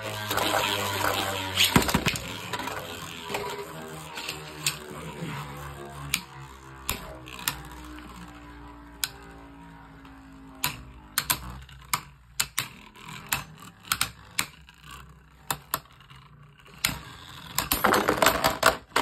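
Beyblade Burst spinning tops, including a Kerbeus prototype, clash in a stadium with a long whirring spin, then scattered sharp clicks and clacks of impacts and a burst of rattling at the end; no talking.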